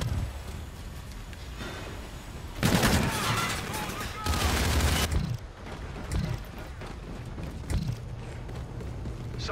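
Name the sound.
gun run gunfire in video game Call of Duty: Infinite Warfare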